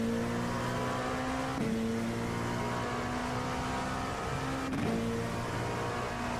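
Race car engines roar in the iRacing sim racing game, with LMP2 prototypes running at speed. The engine note stays steady and loud, with two quick pitch drops like gear shifts partway through, and no talk.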